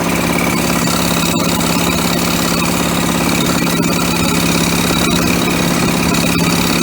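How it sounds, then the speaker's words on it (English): A used lawn mower engine with heavy blow-by idles steadily and loudly close up, a continuous rough chugging drone with faint irregular knocks and no voices. "That engine has a lot of blow-by"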